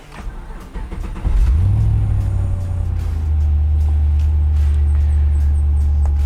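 A 1962 Corvette restomod starts up cold, its engine catching with a rising rev and then settling into a steady, deep exhaust rumble through the muffler, loud and close.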